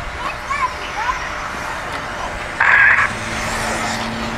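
Off-road RC buggies race around a dirt track, a thin motor whine rising and fading as the cars pass, with one louder buzzing pass near the middle, all under continuous race commentary.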